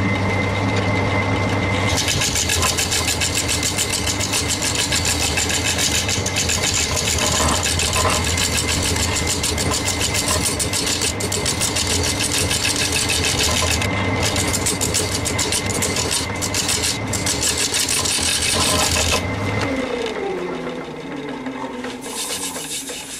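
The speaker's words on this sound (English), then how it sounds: "this carbide cutter is doing a good job, so I'll carry on using it for a bit" A wood lathe spins a yew bowl while a carbide cutter scrapes it, giving a loud continuous rasping hiss over the motor's hum. The cutting stops near the end and the lathe winds down.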